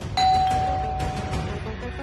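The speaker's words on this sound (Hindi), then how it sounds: "दरवाजा की घंटी बज गई बा" A home doorbell chimes once with a clear ding-dong tone that decays slowly over a soft background of ambience and music, with no one speaking.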